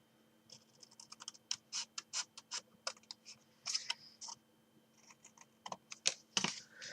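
Scissors snip through card while a chocolate box is being made: quiet, crisp clicks close by, in quick irregular runs with short pauses.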